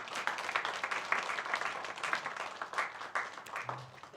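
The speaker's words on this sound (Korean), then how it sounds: "우리 함께 하나님의 마음으로 박수하겠습니다." A church congregation at an evening worship service applauds together, a soft, somewhat distant wash of many hands clapping steadily for several seconds with no one speaking over it.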